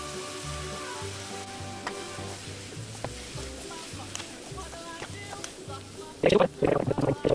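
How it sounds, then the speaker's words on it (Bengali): A pan of Bengali aloo dum gravy bubbles and sizzles quietly. Near the end, potatoes are tipped in with a sudden loud, splashy clatter, followed by stronger sizzling. "এবার আলুগুলোকে ঢেলে দিলাম।"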